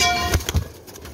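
Golden pigeons, a male and female pair, give a couple of soft, low coos close by, two short pulses in quick succession over a faint background.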